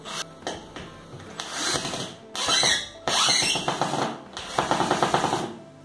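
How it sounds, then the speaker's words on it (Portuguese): A power drill driving screws into a headboard module, heard in several close bursts of whirring motor with short pauses between them and a rattling, stuttering final run. "Vou mostrar parafusando um para vocês verem como é que é."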